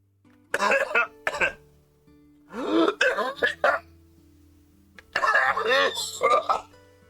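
A person coughs and clears their throat in three hard fits separated by short pauses, close and loud, with faint background tones underneath.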